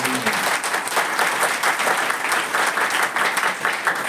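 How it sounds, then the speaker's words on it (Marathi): An audience at an award ceremony applauding, a dense, loud, sustained burst of clapping from many hands throughout. "तर जोरदार टाळ्या"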